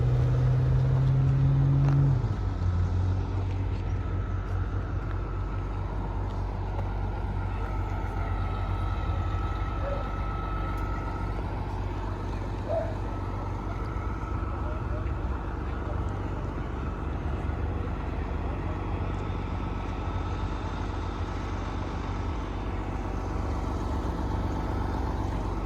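Race cars driving near Bishop's Castle in Colorado, a loud continuous engine drone with steady rumble close by, one car's note dropping early on, with no pauses.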